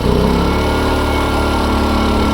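An AL-KO inverter generator's small petrol engine runs loud and close in normal mode, a steady high-revving drone with a fixed buzzy hum and no speech over it.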